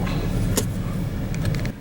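A car engine idles, left running during a food delivery stop. It makes a steady low rumble close by, with a few faint knocks and clicks over it.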